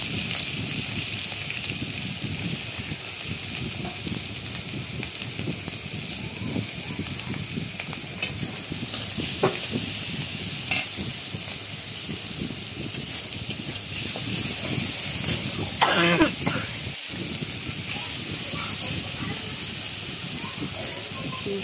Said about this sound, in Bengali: চিংড়ি মাছগুলোকে ভালো করে ভেজে নেব।